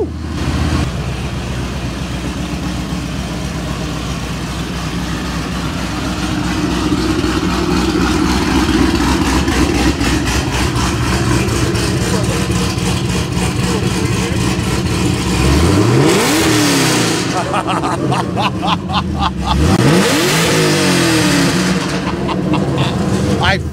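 A 2010 car's Hemi engine rumbles at idle, then revs up sharply twice near the end, loud and close.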